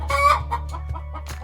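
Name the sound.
cemani chicken clucking and crowing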